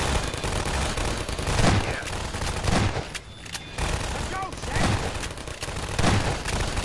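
Weapons firing in Half-Life 2: Episode Two, bursts of rapid gunfire and booms rising and falling across the stretch with brief lulls between volleys.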